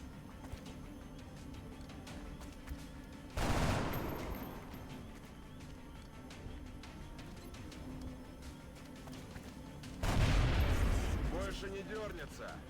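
Two bursts of gunfire from the Long War XCOM mod, each a sharp loud onset followed by a decaying rumble, spaced several seconds apart over a steady game background bed.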